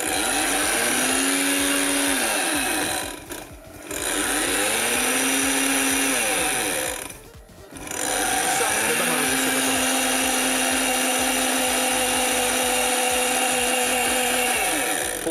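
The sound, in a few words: blender grinding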